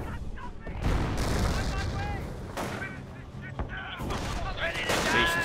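Gunfire and artillery pound a base in the strategy video game Company of Heroes, a dense continuous battle din of shots and blasts with voices talking over it.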